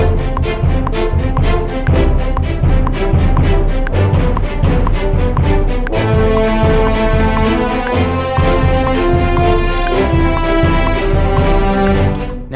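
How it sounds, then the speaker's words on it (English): Loud, dense orchestral horns and strings play rhythmic sustained chords, layered slightly out of step with each other by a sample delay, with no voices. "there's a sample delay on these horns and strings, so they're a little bit off."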